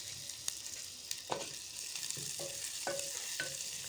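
Small sprats fry in a pan with a steady low sizzle while a utensil stirs and scrapes, making several soft knocks spaced about half a second apart.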